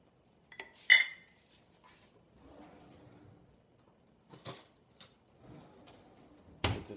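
Egg whites being mixed in a bowl with a utensil, giving sparse clinks and scrapes of metal against dish, a few sharp taps standing out among softer intermittent stirring, close and fairly quiet with no talk.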